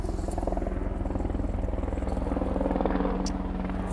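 A police helicopter passes overhead, its rotor producing a steady, rapid, throbbing chop that stays fairly loud and continuous throughout, with no talking.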